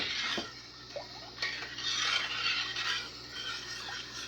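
Spoon scraping and stirring through candied yams in a pot as brown and white sugar are mixed in, a continuous close scraping and rubbing with occasional clinks against the pot's sides.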